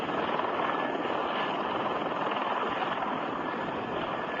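A V-22 Osprey tiltrotor aircraft flies with a dense, steady rotor and engine roar, loud and continuous throughout with no breaks.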